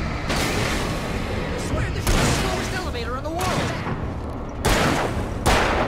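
Gunfire in the video game Alan Wake: a rapid run of loud shots and booms fills the scene, with a few heavier blasts standing out.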